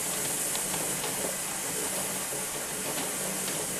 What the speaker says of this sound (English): That'll keep a constant steam coming up.